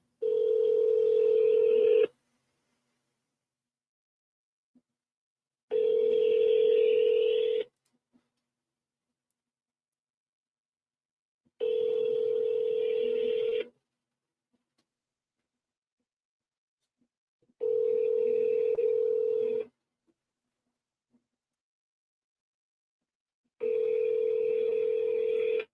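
Phone ringback tone repeating five times in steady bursts about two seconds long, separated by silent gaps, while a call waits for a real estate agent to pick up.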